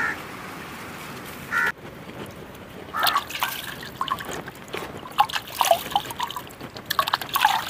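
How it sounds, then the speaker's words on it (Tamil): Water trickles and splashes as raw papaya is rinsed by hand, with small drips and sloshes coming in irregular bursts, close by. "சுத்தமாக தண்ணியில் கழுவி"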